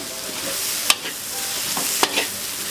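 Pumpkin, egg and basil leaves being stir-fried in a pan until wilted, a steady soft sizzle broken by a couple of sharp scraping clacks from the spatula.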